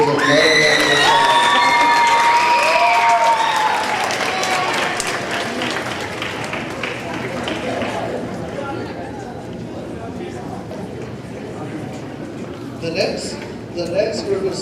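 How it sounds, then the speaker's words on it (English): School band and color guard awards audience applauds and cheers for auxiliary members, loud clapping with whoops and shouts at first, then fading to lighter clapping and crowd chatter. "Let's give all of those auxiliary members another round of applause."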